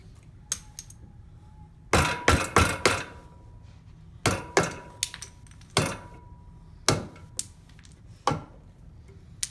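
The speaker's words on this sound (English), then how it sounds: "And I'm going to chisel away" A mallet strikes a chisel to cut a rabbet in a piece of wood, heard as sharp, close knocks in quick clusters of two to four, spaced by short pauses, with no one speaking.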